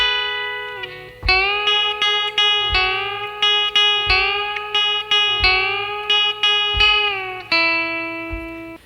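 Electric guitar playing a country lick from a song, with string bends, a steady series of plucked notes gliding up and releasing, clear and alone over a soft low pulse.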